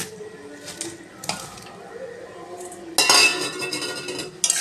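Mango pieces for a sweet pickle tip into a pan with a sudden metallic clatter and rattle after a few soft clinks of a utensil, loud and close, ending with a sharp knock.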